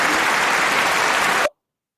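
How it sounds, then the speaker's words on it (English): An audience bursts into steady, dense applause after a call to celebrate Oscar wins for the film Sinners, loud and continuous for about a second and a half before cutting off abruptly. "So a round of applause."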